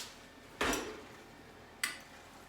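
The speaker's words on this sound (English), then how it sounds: "I will investigate with a fork" Two light metallic taps of a fork against a baked French toast dish on the stove, one sharp clink followed by a fainter one about a second later, close and clear in a quiet kitchen.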